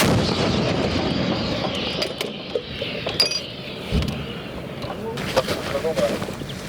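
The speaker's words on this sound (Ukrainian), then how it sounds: "Постріл!" Loud outdoor bursts like gunfire crack out several times amid rumbling background noise, with a sharp heavy boom near the middle.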